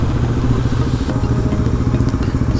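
Road traffic in Chandigarh, India, with motorcycles passing close by, gives a loud, continuous engine drone with a rattling pulse throughout.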